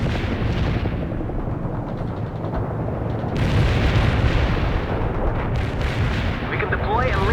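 An artillery barrage thunders in the video game World in Conflict, a continuous roar of heavy booming impacts and rumbling explosions, loud and dense throughout, with faint radio-style chatter in places.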